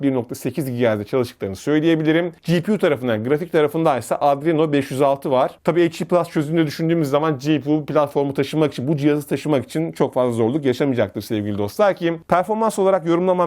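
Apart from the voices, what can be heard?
No everyday noise stands out behind the speech.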